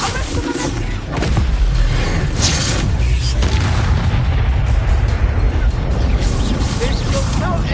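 Confringo and Bombarda spell blasts in Hogwarts Legacy, a loud booming explosion that rumbles on with heavy low crackle and debris, close and sustained, with a voice speaking over it.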